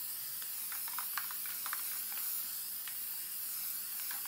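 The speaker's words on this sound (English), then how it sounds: "the kind of chalkboard spray paint that I like to use" Chalkboard spray paint hisses from a can in a continuous, close spray with small crackly spatters, heard alone without talk.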